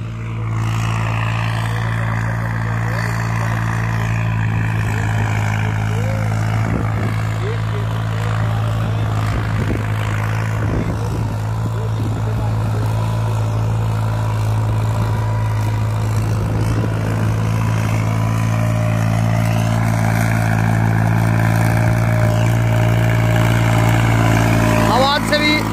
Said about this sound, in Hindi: चल रहा होगा ट्रैक्टर कोई भी आरपीएम ड्रॉप नहीं कर रहा फिलहाल